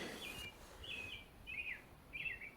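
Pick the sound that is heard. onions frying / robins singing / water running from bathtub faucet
robins singing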